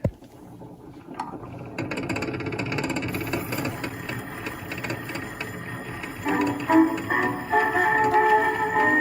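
A Vitaphone Type 40 wind-up phonograph plays a record. Hiss and mechanical surface noise build after a click at the start, with quiet music underneath that grows somewhat louder toward the end.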